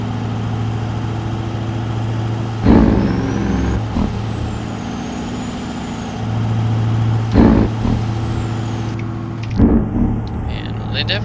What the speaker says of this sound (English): I get to see everything, and I actually can hear my truck